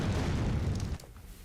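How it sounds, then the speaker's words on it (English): Explosion in the video game ARK: Survival Evolved, tied to a Magmasaur: a loud, deep boom with a rumbling body that cuts off sharply after about a second, followed by quieter residual noise. "Boom, explosion."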